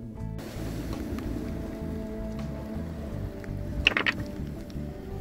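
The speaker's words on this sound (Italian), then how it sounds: "sta iniziando a piovere" Rain beginning to fall on Filicudi island, a soft steady patter of drops under a low background hum, with a brief louder cluster of taps near the end.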